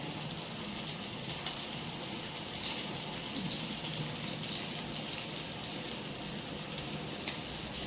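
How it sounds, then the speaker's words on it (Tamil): Fish masala curry boiling in a pot gives a continuous, even bubbling hiss with a dense, watery texture, steady and moderately quiet throughout, with no talking. "குழம்பு நல்லா கொதித்து வந்துடுது"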